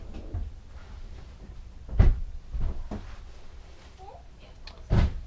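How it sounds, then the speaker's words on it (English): A closet door in a fifth-wheel RV opening and closing, soft thumps and bumps spaced over a few seconds beneath steady background noise, fairly close. "So big closet. This is great closet area."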